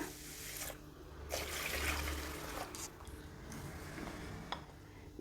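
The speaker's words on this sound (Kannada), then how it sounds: "ಈಗ ಫ್ರೆಶ್ ನೀರು ಹಾಕಿ ನೆನೆಯೋದಕ್ಕೆ ಬಿಡೋಣ" Fresh water trickles faintly into a vessel of washed dosa rice being set to soak for appam batter, a quiet pouring and dribbling sound in an otherwise calm kitchen.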